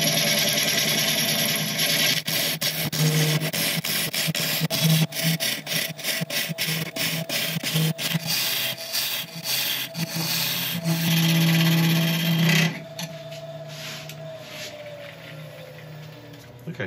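Woodturning tool cutting into a spinning resin and wood piece on a lathe, a loud continuous scraping rasp broken by rapid catches and bursts, then the motor hum carries on after cutting stops.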